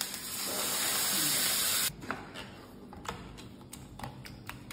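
Hing hits hot oil with curry leaves during tempering, giving a loud, steady, close sizzling hiss that drops suddenly into quieter crackles and sharp ticking spatters.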